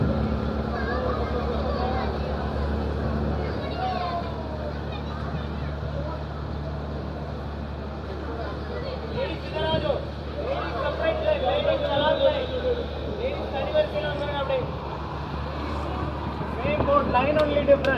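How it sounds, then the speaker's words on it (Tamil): A passenger boat's engine drones low and steady near the glass bridge at Kanyakumari as it pulls away, under continuous crowd chatter and someone talking on a busy jetty. "ஸோ அவ்வளோதான் அந்த போட்டு கிளம்பி போயாச்சுங்க மக்களே"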